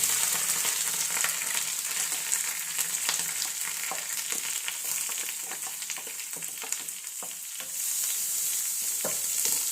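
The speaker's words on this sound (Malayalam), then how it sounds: "അരപ്പ് ആദ്യമേ ഇങ്ങനെ ഒന്ന് ചൂടാക്കണം" Ground coconut, cumin, garlic, onion, green chilli and turmeric paste sizzles softly in a hot pan, with faint scraping stirs over a steady frying hiss and no voices.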